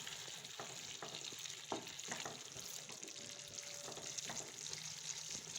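Chicken sautéing in a pan for kosha, a quiet steady sizzle with scattered spatula scrapes and clinks, no talking.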